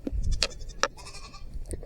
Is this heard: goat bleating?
yes